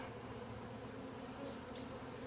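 A swarm of honey bees in a swarm trap, a dense, steady buzzing drone heard up close and unbroken, with no voices.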